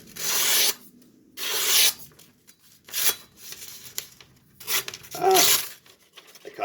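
Knife blade sharpened on a Shapton Pro whetstone: repeated rasping strokes of steel sliding across the wet stone, close and distinct, in an uneven rhythm of about five passes with short gaps between them.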